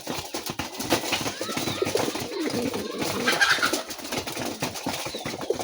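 Red and white Raj Golla pigeons coo softly in a close group at a pigeon farm, with rustling and occasional wing flutters, mixed with background voices.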